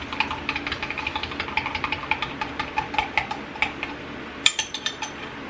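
A utensil stirs hot liquid plastic bait mix in a cup, making a steady run of light clinks and scrapes at a regular quick rhythm, close and fairly quiet.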